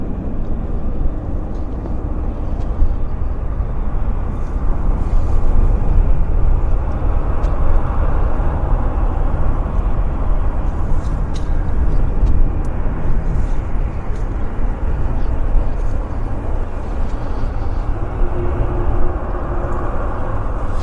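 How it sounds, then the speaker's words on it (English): An Alaska Horizon Embraer airliner taxis for departure at Vancouver airport, a steady low engine rumble and whine holding constant at moderate distance for the whole stretch, no voices. "The Embraer we saw arrive earlier. Now taxiing for departure."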